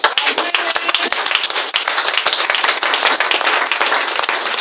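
A church congregation claps together to acclaim God, a dense, steady patter of many hands close by, continuous for several seconds with no talk over it.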